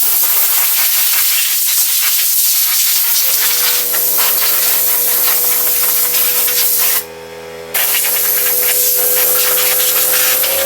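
A spray can hisses onto a Squier Strat guitar in one short, loud burst of under a second, over a steady low mechanical hum that runs through most of the clip.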